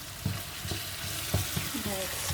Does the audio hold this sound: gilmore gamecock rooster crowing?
no